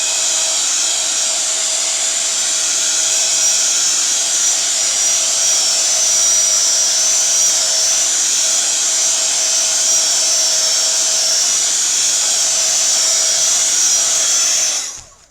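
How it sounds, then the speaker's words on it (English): Heat gun blowing a steady, loud stream of hot air to dry a painted surface, a continuous whooshing roar that holds unbroken for about fifteen seconds before cutting off abruptly. "I'll just give that a quick blast as well with the heat gun"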